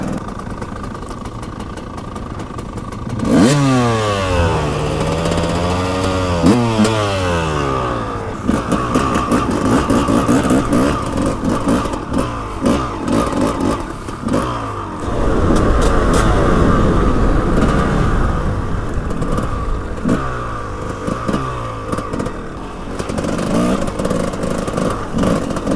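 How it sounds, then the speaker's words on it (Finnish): Several mopeds and motorcycles rev and idle nearby, their engines rising and falling in repeated sweeping bursts that overlap one another, loud and continuous over about twenty-five seconds. "monta mopoa täällä ainakin on."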